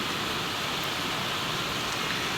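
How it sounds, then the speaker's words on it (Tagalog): Heavy rain pours down in a dense, unbroken hiss, loud and steady throughout, with no voices. "Ngayon naman po dito ay sobrang lakas ng ulan."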